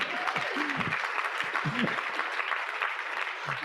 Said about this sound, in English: I think we need a round of applause for Poison Ivy.